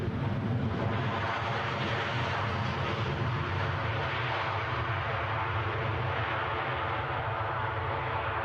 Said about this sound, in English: ATR strumming in the background